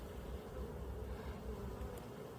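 Bees hum in a low, steady buzz close to the microphone, a faint continuous drone with no talking over it.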